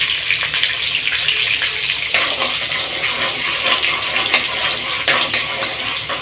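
Soaking water pours into a pot of rice, a steady close gushing splash that runs continuously with slight fluctuations.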